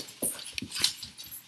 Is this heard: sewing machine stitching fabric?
no